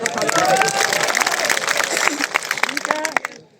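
At a protest rally in Ratlam, a crowd claps with both hands raised, the uneven claps mixed with raised voices before fading out.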